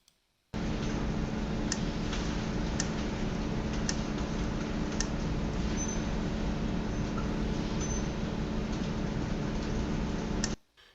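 An industrial valve in an anomalous state clicks at a steady, regular rhythm over constant broadband background noise and a low hum, with faint sharp ticks through roughly ten seconds before cutting off.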